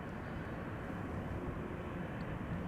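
A British Airways Embraer 190 regional jet at Amsterdam Schiphol, twelve years old, bound for London City, gives a steady, moderately distant engine roar that holds level throughout without talk.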